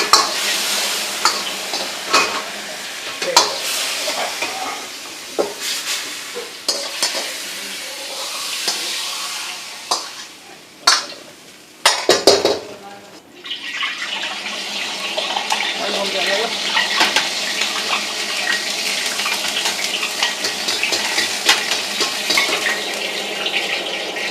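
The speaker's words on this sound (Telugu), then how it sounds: "तो इसी टाइप से हर एक आइटम को हम लोग स्टिर फ्राई करेंगे" Vegetables are stir-fried in oil in a pan for a Korean-style vegetarian dish. Close, continuous sizzling and clattering stirring run throughout, with a brief quieter break near the middle.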